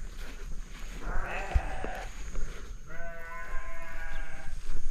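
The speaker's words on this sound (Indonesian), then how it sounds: "Wah, ada suara kambing." Goats bleat twice, loud and nearby, each call a wavering cry over steady outdoor background noise on a mountain.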